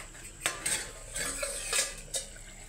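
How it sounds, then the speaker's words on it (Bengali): A lid comes off a cooking pot in a kitchen where meat is being braised, a few close metallic clinks and clatters over a soft sizzle. "চলুন এবার ঢাকনাটা খুলে দেখায়"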